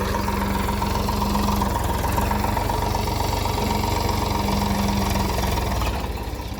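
A tractor engine running on a farm holding a steady, close, rumbling idle with a chugging low drone that eases slightly at the end.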